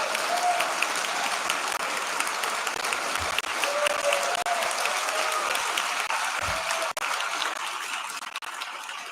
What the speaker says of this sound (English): You got more applause than me.